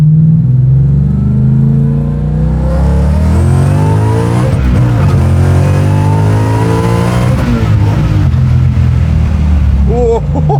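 A $1.2 million 785HP Mustang Fastback does burnouts, its engine roaring loud and close with sustained high revs and rising, surging pitch throughout, filling the whole stretch without talk.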